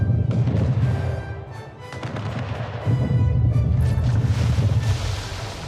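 Warship cannons firing broadsides in Anno 1800 naval combat, several heavy booming blasts over a low rumbling, windy sea-like background, loud and close.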